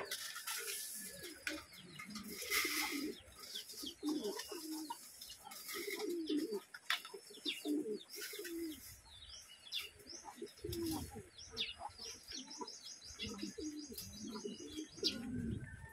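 Homing pigeons returning to their loft from a race released at Atimonan, Quezon coo in low, soft rolls, mixed with scattered chirps from other birds and a brief flutter of wings, fairly near and steady throughout.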